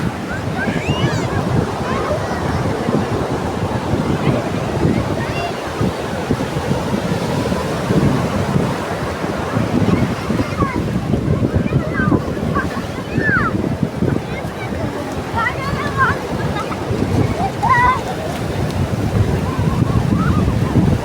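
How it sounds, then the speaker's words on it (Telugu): Ocean waves at Gopalpur beach in Odisha roll in continuously with wind buffeting the microphone, a heavy rushing wash throughout, with voices talking intermittently over the surf. "సముద్రం అంటే సముద్రమే, ఇంత అంత అల్లలు కాదు"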